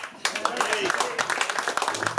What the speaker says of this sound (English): Nice round of applause as well for young Sam.